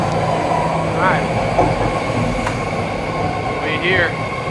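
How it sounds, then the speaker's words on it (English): A BART train pulls into a station, its steady rumble and squealing brakes filling a noisy platform. Faint chirps and clicks sound over the continuous roar, with no talk. "There comes that BART train."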